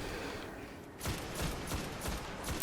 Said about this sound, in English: That freaking explosion is really distracting